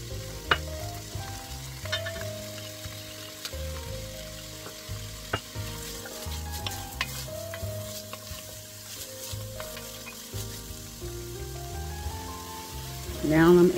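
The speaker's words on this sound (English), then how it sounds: "I'm going to drizzle some canola oil. I'm adding onions, red onions, shallot, and carrots." Onions, red onions, shallot and carrots sizzle and crackle as they fry in canola oil for a homemade Italian spaghetti meat sauce, with steady frying noise, occasional stirring scrapes and a louder burst at the end.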